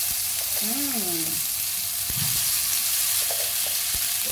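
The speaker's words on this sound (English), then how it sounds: "Our wok is heated up well, and now we will be adding this paste." Laksa paste sizzling in a well-heated wok, a steady broadband frying hiss running the whole time with a few sharp clicks, while a brief voice or tonal sound rises and falls early on.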